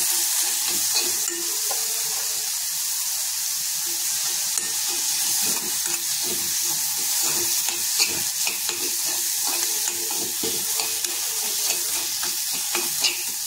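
Tomatoes, asafoetida and curry leaves frying in a pan make a continuous bright sizzle with frequent crackles and light stirring, close up and steady throughout with no voices.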